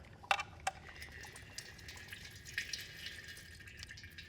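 Transmission oil from a Volkswagen 09G/09M gearbox drips into a drain pan during a service, making a few faint, sparse drips against a quiet background.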